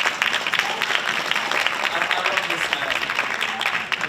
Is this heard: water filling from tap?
no